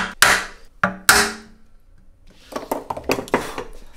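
A hammer drives a chisel into wood while an acoustic guitar end graft is cut: three hard, ringing blows close by, then a run of lighter, quicker taps and scraping.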